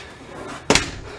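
Wooden door in the bathroom of a 2017 Rockwood Windjammer 3008W travel trailer shutting with a single sharp, close slam and a brief rattle after a quiet stretch.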